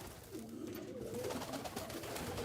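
Pigeons coo steadily in an enclosed loft or aviary, with several birds producing low, rolling calls that overlap continuously and sound close.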